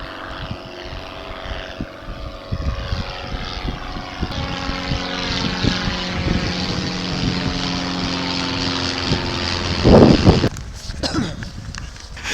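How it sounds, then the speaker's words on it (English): A small propeller aeroplane drones overhead above the Wales Coastal Path, its engine tone rising and shifting as it passes, with a louder burst near the end; faint talk underneath. "It's actually a small aeroplane."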